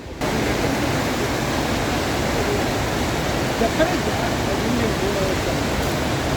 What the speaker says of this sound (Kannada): ಅಮೇಝಿಂಗ್ ಫಾಲ್ಸ್ ಸಾಕಾತುಂಡು ಅದ ಭಾರಿ ಶೋಕುಂಡು